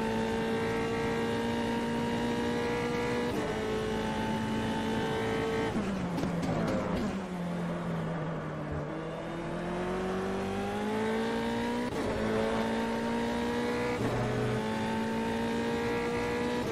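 Race car engine droning steadily at Hockenheim in the Automobilista sim racing game, with sustained high revs, pitch dips and climbs through gear changes and corners, continuous and loud throughout.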